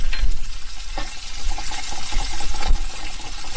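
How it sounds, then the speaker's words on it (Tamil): Cashews and coconut pieces roast in ghee in a pan, giving a busy, fairly loud bubbling sizzle with stirring clatter throughout, no voices. "இப்போ நெய்யில் நம்ம முந்திரி பருப்பு வறுத்துக்கிட்டு இருக்கோம்."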